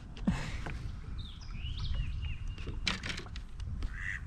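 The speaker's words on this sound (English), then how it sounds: "Duck flying in here." Ducks calling around a lake as one flies in, several quacks and honks at moderate distance over a faint wind-like background, no talking.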